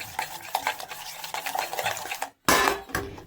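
Eggs beaten and mixed in a bowl for an omelette, with rapid scraping and clinking of a utensil against the bowl in steady rhythmic strokes, a brief pause, then a louder burst of clatter.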